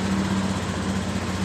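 A Honda Beat Pop motorcycle engine idles steadily with a smooth, continuous hum after its fuel pump filter was replaced, running on its own with no talk.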